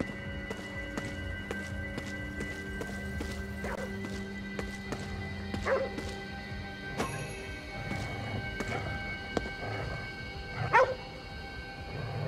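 Dog barking in the video game Ghostwire: Tokyo, a few sharp barks around the middle and near the end over a steady game soundtrack and ambience.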